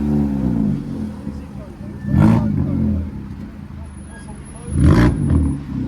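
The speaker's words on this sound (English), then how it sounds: "Probably the loudest Polo of that generation I've ever heard." A Volkswagen Polo with an aftermarket exhaust blips its engine twice at a Japanese car meet, sharp, loud revs about three seconds apart over a steady idle burble, with people talking nearby.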